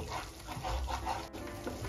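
A mix of turmeric, paneer masala and red chili powder is stirred and sautéed in a pan. Soft scraping and a low sizzle come through, faint and close, with no talking.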